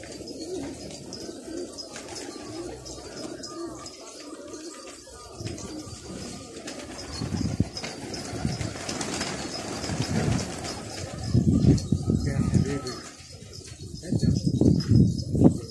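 Pigeons cooing outdoors during a bird-hunting outing for several pigeon varieties, with soft repeated coos and occasional wing flaps under ongoing background noise and bursts of louder rustling.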